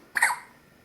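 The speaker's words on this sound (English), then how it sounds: "There's the hiccups." One short, sharp baby hiccup pops out close to the microphone, a single bright burst that fades quickly into a quiet room.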